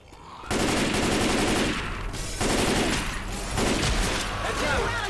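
Sustained automatic gunfire in Left 4 Dead 2 during The Parish campaign, three loud bursts of rapid shots separated by brief pauses, with players talking underneath.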